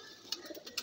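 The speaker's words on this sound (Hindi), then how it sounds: "बहुत ही लाजवाब कबूतर है भाई।" A pigeon being shown for sale gives a soft, brief coo close by, with a few light clicks and rustles around it.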